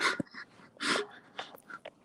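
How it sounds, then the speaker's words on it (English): A puppy whimpers and pants while playing with a toy, giving several short, close high-pitched whines and breathy yips with quiet gaps between them, and no talk. "My puppy's playing his toy."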